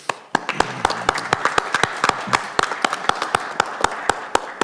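An audience at a town candidates night claps for the candidates: a steady run of sharp, moderately loud individual claps, sparse rather than a thick ovation.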